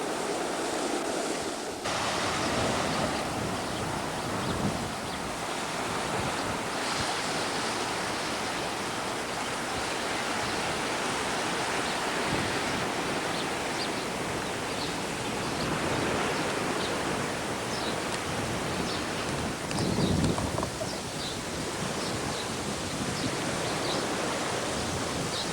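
Ocean surf at Poipu, Hawaii, recorded in 1996 makes a steady, loud wash of breaking waves with occasional swells and wind buffeting the microphone.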